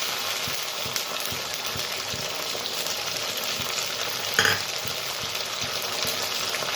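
Sliced onions with chilli, cumin, garlic-ginger and onion pastes frying in a pan for duck curry, a continuous bright sizzle with soft stirring scrapes and a brief louder spatter midway, no talking.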